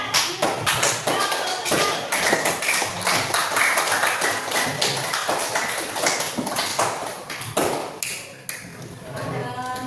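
An audience of teachers at an Indonesian school counselling session applauds, many hands clapping in a dense, steady burst close by, with a voice speaking over it.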